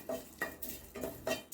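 Curry leaves dry-roast in a hot pan for homemade sambar powder, with rhythmic spatula scrapes against the pan every few tenths of a second over a faint, close crackle.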